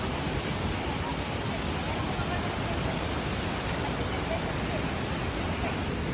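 Tinoy-an Falls in Mindanao, a loud, dense, unbroken rush of falling water close by, with no change in level from start to finish.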